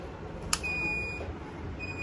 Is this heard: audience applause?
no